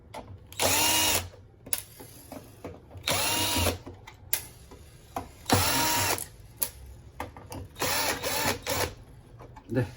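A power driver whirs in repeated short bursts, with clicks and ratcheting between them as four wide-head screws are backed out of a coffee machine's bean hopper, close and loud.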